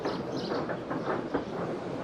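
A steam train rolls steadily along rails, its continuous rumble broken by faint rhythmic clicks as the wheels pass over the rail joints.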